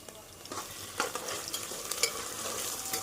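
Onions sizzle and crackle in a hot pan while frying for egg biryani, with a spoon stirring and scraping now and then, close and fairly quiet.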